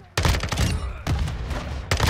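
Automatic fire from the FSS Hurricane SMG in the video game Modern Warfare 2 comes in three rapid, loud, close bursts, each a fast rattle of shots separated by short gaps.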